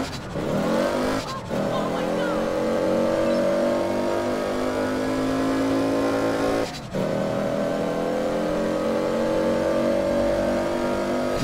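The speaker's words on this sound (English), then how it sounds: "God, the car is so loud." A car engine revs loud and steady in APB: Reloaded, holding a droning pitch with two brief gear-shift dips, with light tire squeal and game chatter underneath.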